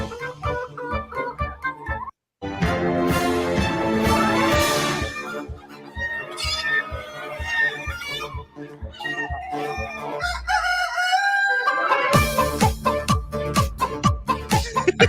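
A theme park ride soundtrack plays loud, bouncy music built from chicken clucks and rooster crowing, with rhythmic repeated clucks, a sudden brief dropout, and a bright crowing-laden finale.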